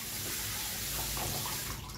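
Kitchen tap water runs steadily as a whole lobster is rinsed under it, a continuous close splashing hiss with no pauses across the short stretch.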